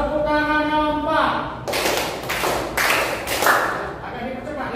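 Junior high students in a classroom clap together in a steady rhythm, four loud broadband claps after a teacher's spoken cue, with voices before and after.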